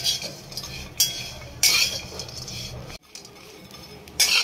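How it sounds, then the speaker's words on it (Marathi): Coconut dry-roasting in a pan without oil, with close scraping and clinking of a spatula stirring against the pan in irregular strokes over a soft background rustle. "आपण खोबरं न तेल टाकता भाजणार आहोत।"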